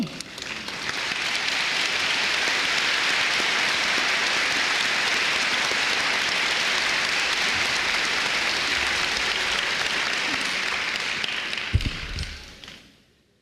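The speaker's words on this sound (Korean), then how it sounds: "우리 김정윤 선교사님 올라오실 때 여러분 뜨거운 박수로 환영해 주시길 바랍니다" A mission conference crowd gives warm applause to welcome a missionary to the stage, a dense, even roar of many hands that holds steady for several seconds, then thins and fades out.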